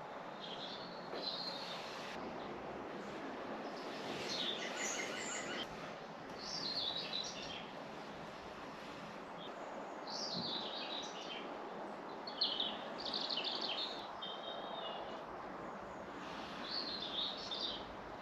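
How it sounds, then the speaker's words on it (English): A green woodpecker calls repeatedly from a distance above a hide by the water, with short bright call bursts returning every couple of seconds over steady background noise. "There's a green woodpecker calling constantly up there."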